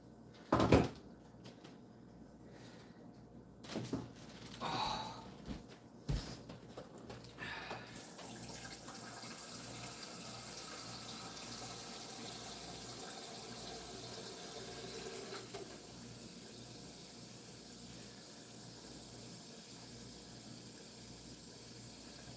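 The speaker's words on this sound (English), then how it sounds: "Put the last of this kettle, before I sit down, the last of this kettle water in here." Hot water from a kettle is poured into a container in a kitchen, a steady hissing stream that runs for about fifteen seconds after a few clunks and knocks, fairly quiet and close.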